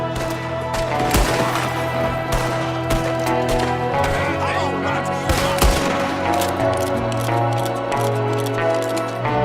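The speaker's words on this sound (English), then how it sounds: "There's another one shooting from the window." A gunfight from a window in the video game Red Dead Redemption, with rapid cracking shots mixed through dense music and game noise, loud and close, and a few sharper bursts standing out.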